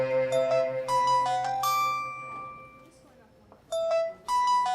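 A phone ringtone plays a short melodic pattern of bright electronic tones, repeating after a brief pause, at moderate volume in an indoor scene.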